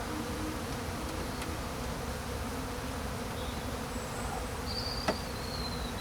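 Honeybees humming during a hive inspection, a soft, steady buzz close by, quiet and continuous with one brief tick near the end.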